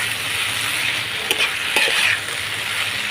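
Village-style banana flower (mocha) frying in a pan, giving a steady broadband sizzle with a couple of soft stirring scrapes near the middle.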